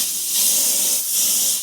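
An airbrush sprays a base coat onto canvas, two close, soft hissing bursts of air and paint with a short dip between them.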